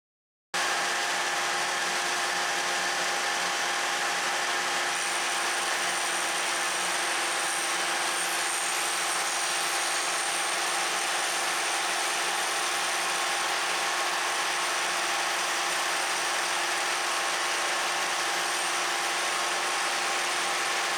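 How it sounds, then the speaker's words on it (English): A wood shaper fitted with a high-speed steel glue joint bit runs with a loud, steady high-pitched whine and roar as it cuts wood, holding continuously for about twenty seconds with no talking. "I'm going to start with this glue joint bit."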